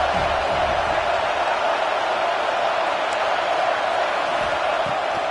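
In the video game NCAA 26, a steady, loud roar of a large stadium crowd at Saban Field on 3rd down, a continuous wash of noise with no breaks.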